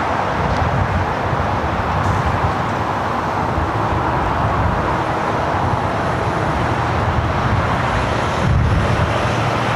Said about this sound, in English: Air France touching down here on the south side